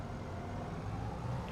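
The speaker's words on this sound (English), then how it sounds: "This truck is going to be fun, but we're just going to park that there." A truck parking in Farming Simulator 25: steady, close diesel engine rumble with a low idling drone, no talk.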